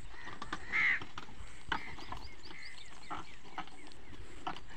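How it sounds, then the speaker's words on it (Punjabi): A flock of crows gathered near a rice field at harvest time, cawing in repeated harsh calls, one loud and close, others scattered and farther off, with no talk. "ਆ ਕਾਂ ਪਤਾ ਨਹੀਂ ਵੀਰ, ਇੰਨੇ ਇਕੱਠੇ ਕਾਹਤੋਂ ਹੋਏ ਆ ਇੱਥੇ"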